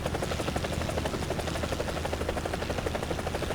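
Helicopter in War Thunder, a continuous rapid rotor thumping with a buzzing engine drone, steady and loud throughout.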